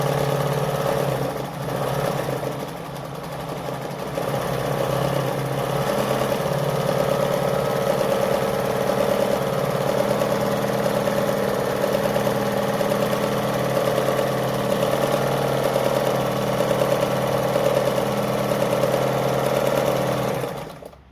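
A Jones model 556 sewing machine stitching through fabric, a steady mechanical whir that runs evenly for about twenty seconds at a constant close level, then stops abruptly at the end.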